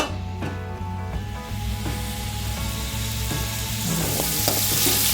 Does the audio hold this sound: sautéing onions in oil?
yes